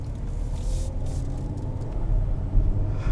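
A 2017 Kia Sorento SXL SUV drives along, its engine and road noise producing a low, steady rumble with a slight swell near the end.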